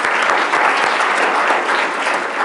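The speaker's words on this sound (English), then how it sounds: "Can we give her a round of applause?" A room of people at a Rochester business meeting claps steadily for a few seconds, a brisk, even patter of many hands at moderate volume.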